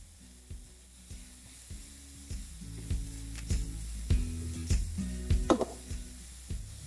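Chopped ginger and green chili sizzle steadily in hot oil, with repeated scraping stirs and clinks of a spatula against the pan growing louder toward the end, close up with no voices.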